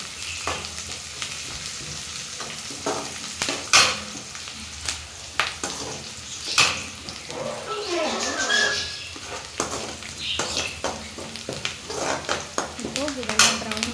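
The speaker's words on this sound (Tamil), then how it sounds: "இப்போ வந்து கொஞ்சம் கருவேப்பிலை போடணும்." Curry leaves sauté in a pan of oil for a beans gravy, giving a soft continuous sizzle with scattered spatters and spoon scrapes against the pan, under occasional speech.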